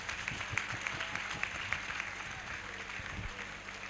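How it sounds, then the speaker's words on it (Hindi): Congregation at a church service clapping hands in a fairly even rhythm, moderate and a bit distant, with a voice faintly present underneath the claps. "ताली बजाकर यार।"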